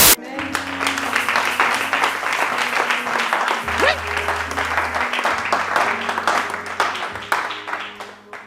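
A church congregation applauds: dense, loud, sustained clapping and cheering runs the whole time over a low, steady music drone.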